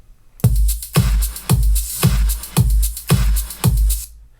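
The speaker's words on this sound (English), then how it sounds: "recording of that whole track, the whole drum thing. Sounds like this." A loud, punchy synth drum loop: heavy kicks with crisp snare and hi-hat hits repeating in a steady, even pattern, with no voices.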